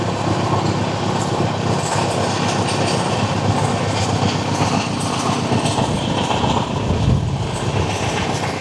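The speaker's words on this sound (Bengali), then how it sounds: "আমাদের ট্রেন এই মুহূর্তে এসে পৌঁছালো তার যাত্রাপথের 11তম স্টেশন কিষানগঞ্জে।" Sealdah–Jalpaiguri Road Humsafar Express pulling into Kishanganj station, a loud, steady rumble of rolling railcars with faint clickety-clack and occasional wheel squeal, no voices.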